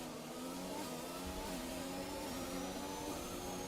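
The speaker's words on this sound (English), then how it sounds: "His car is still going." A race car engine drones steadily at high revs in a sim racing league race, a continuous loud hum with no talk over it.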